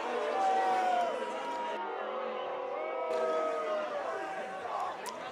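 A big, enthusiastic crowd at a lacrosse semifinal between the Nova Scotia Privateers and Alberta cheers and shouts in an indoor arena, a fairly faint, swelling roar of many voices with a few louder yells rising above it.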